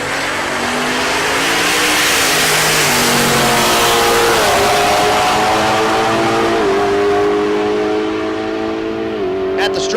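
A Mustang drag racing down the strip at Tulsa Raceway Park, its engine roaring loud and sustained with rising pitch as it shifts through gears across the pass, fading slightly near the end.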